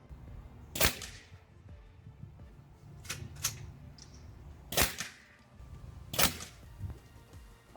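Victory CP2 airgun in rifle format firing shots outdoors on a windy day, four sharp loud cracks spaced a second or two apart, each followed by a short faint thunk, over low wind rumble.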